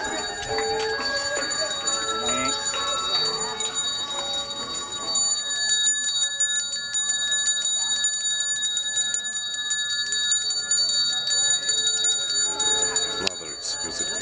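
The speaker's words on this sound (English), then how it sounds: "I can hear the bells of the Pujawali" Bright, ringing metallic bells chime repeatedly at a Balinese Pujawali temple ceremony, the Punchakarya climax, sustained tones layered over one another alongside faint background voices.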